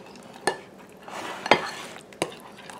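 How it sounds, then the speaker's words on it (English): Utensil clinking against a bowl while blackberry cobbler ingredients are stirred, with three sharp scrapes and taps over a soft, continuous stirring rustle. "Stir it up."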